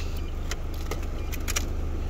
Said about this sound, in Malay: Masuk kunci.